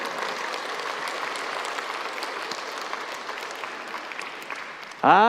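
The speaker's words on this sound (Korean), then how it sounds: "어거지로 박수 한번 받아보네요" A church congregation gives a round of applause during a Korean sermon, steady even clapping throughout that fades slightly before a voice speaks at the very end.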